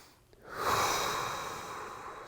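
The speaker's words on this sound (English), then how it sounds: "breathing in through the nose again." A single slow, deep breath is drawn in through the nose during a breathwork session, a close, airy inhale that swells after a brief pause and is sustained to the end.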